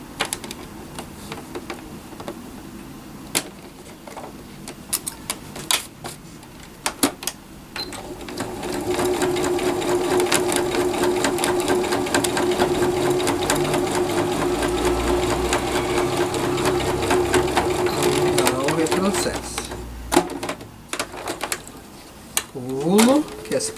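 A sewing machine stitches a vaccination card cover, running in a steady continuous burst for about ten seconds after short start-stop stitches, with brief handling noises and a voice speaking before and after.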